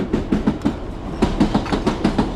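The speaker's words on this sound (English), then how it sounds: "I had to get on the Piccadilly line and get a Piccadilly line train, which is the blue line." A London Underground Piccadilly line train passes close by, its wheels beating a loud, regular clickety-clack rhythm over the rail joints, with a steady rumble underneath and no voices.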